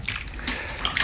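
Water splashes and sloshes briefly as someone is washed in a home drama scene, a short close burst of wet splattering that comes in a few quick pulses.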